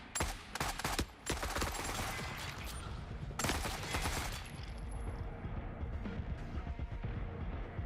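Bursts of automatic gunfire and scattered shots in The Forever Winter, loud and close at first, then a sustained heavy barrage with rapid overlapping reports continuing throughout.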